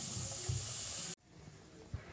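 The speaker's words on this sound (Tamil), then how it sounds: "நல்லா எண்ணெயை காய வச்சுட்டு பூரியை போடணும்." A poori frying in hot oil gives a steady close hiss for about a second, then stops abruptly and leaves a faint quieter background.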